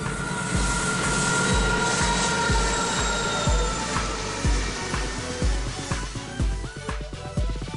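A long, heavy iron ore freight train in the Pilbara rumbles past with rhythmic wheel clacks over rail joints and a sustained metallic hum, loud and close, with no voices.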